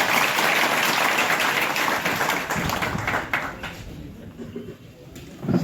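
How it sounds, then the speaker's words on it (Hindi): Audience applause welcoming a guest from Gwalior at a police training centre theatre workshop, loud dense clapping that thins out over the last seconds. "सबसे पहले उनका स्वागत करें तालियों से"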